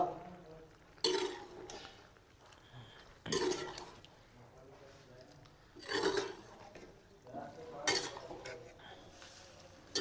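A metal spoon stirs boiled macaroni pasta with chicken in a pot, making four or five distinct scraping clinks spaced a couple of seconds apart, with quieter wet stirring between them.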